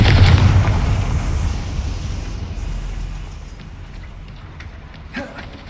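A Confringo spell in Hogwarts Legacy goes off as a loud, rumbling explosion right at the start, its boom slowly decaying into a fading roar, with a small burst near the end.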